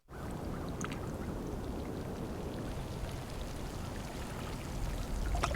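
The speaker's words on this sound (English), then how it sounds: "It's the sound of water on a lake." Ambient water on a fairly still lake, a steady soft wash of gentle lapping and trickling that holds constant throughout, with no voices.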